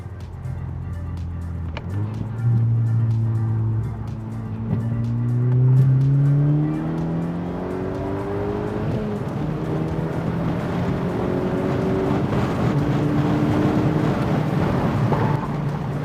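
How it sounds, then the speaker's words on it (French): Volkswagen Golf GTI accelerating, engine and exhaust note rising through the revs in a steady climb, fairly close and loud, with a gear change partway through. "L'échappement est juste assez présent pour qu'on l'entende, mais pas trop bruyant"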